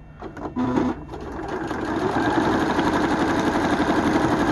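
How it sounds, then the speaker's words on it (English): A sewing machine motor hums and whirs steadily on straight stitch, powered from a 500W portable power supply, starting after a brief pause and running continuously at a close, even level. "Here's the machine, the sewing machine."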